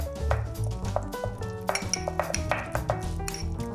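A spoon stirs chopped chives and a pinch of salt into cream in a bowl, making quick, faint clinks and scrapes against the dish in an irregular rhythm with no talking.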